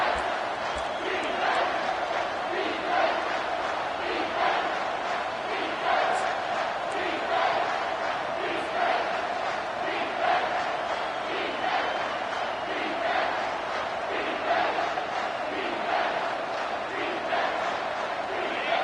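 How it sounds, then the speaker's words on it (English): A stadium crowd in the College Football 25 video game roars steadily, a dense loud wall of cheering and chanting that holds at the same level throughout, with no commentary over it. "with this place rocking, the crowd forces a false start"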